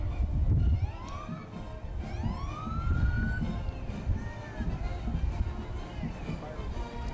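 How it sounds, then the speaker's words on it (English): A 1980s Seagrave fire truck siren whoops and rises in short sweeps at a Veterans Day parade in Virginia Beach, somewhat distant, over a noisy crowd with people talking nearby. "Sights and sounds and the sirens blaring."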